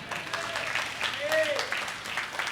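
A church congregation claps together during a promise service, a dense, steady patter of hands that carries on throughout, with voices faintly mixed in.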